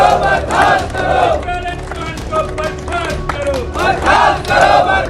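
Gurjar community protesters chant slogans as a loud crowd outside the municipal corporation headquarters in Gwalior, voices rising in rhythmic shouted waves with a leader's calls between them.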